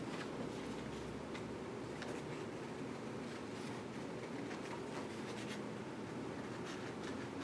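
Scissors cut out a paper sail for a craft project, giving a continuous close scratchy snipping and rustling with faint ticks, steady throughout with no talk.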